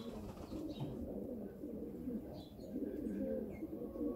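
Vouta pigeons coo in soft, low, throaty murmurs that blend into a continuous rumble, with faint chirps above and no clear talking.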